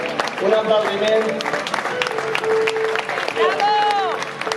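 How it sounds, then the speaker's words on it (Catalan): Audience applauding at an equestrian exhibition in Sollana, with scattered clapping mixed with crowd noise and a voice speaking over it through a loudspeaker. "Un aplaudiment."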